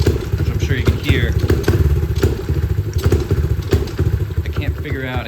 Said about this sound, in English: just from idle, I just give it just bobs, which I'm sure you can hear.